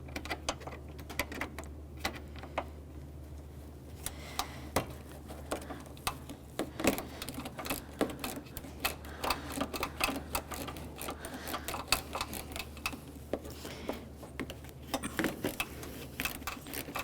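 Corner screws being driven into the grille of a 2003-2007 Honda Accord make a long run of small, sharp clicks and ticks at close range, irregular and busy, over a steady low hum with no talking.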